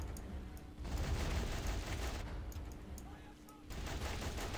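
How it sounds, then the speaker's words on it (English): Gunfire from the WW1 strategy game Battle of Empires 1914-1918 crackles and rumbles as a dense, fairly quiet barrage of shots and booms with continuous battle noise. "they're shooting me right now, I think"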